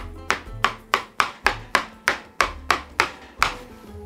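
A knife chops chocolate cookie dough with nuts into walnut-sized pieces on a board, making a dozen steady, sharp knocks roughly every third of a second, close and clear with no talking.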